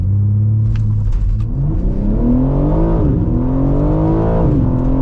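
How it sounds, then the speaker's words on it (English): 2025 BMW M3 Competition launching hard from a standstill with launch control: a loud, continuous engine roar that holds, then climbs steeply in pitch through several gear shifts, heard from inside the car with no talking. "my favorite thing about this car is we have launch control"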